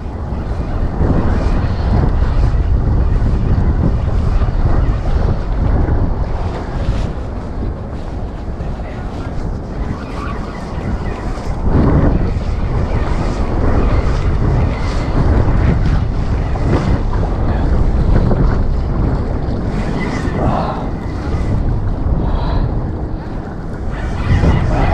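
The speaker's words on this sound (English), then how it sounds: "It's too windy today here, guys." Loud wind roars across a fishing boat on open water while striped bass fishing, with waves sloshing and steady buffeting throughout.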